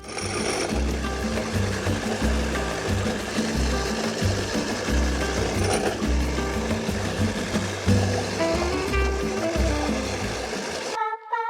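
A push reel mower whirs through lawn grass with a rhythmic clattering spin of its blades, close and steady for several seconds before cutting off abruptly.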